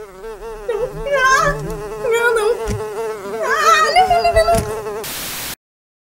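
A swarm of mosquitoes whines continuously, the high buzzing pitch wavering and swelling for about five seconds before cutting off abruptly with a brief burst of hiss.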